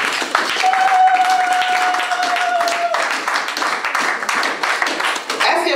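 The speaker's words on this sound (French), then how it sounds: "Acclamons pour la parole." Church congregation applauding in a French-speaking service, steady dense clapping sustained throughout with a voice briefly sounding over it.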